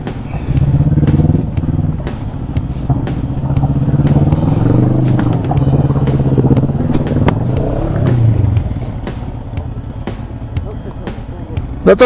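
A motorcycle carrying two riders rumbles steadily over stones and gravel on a Ladakh mountain road between Hunder and Pangong Tso, its engine close and loud with scattered clatter and knocks from the rough surface, and voices talking over it.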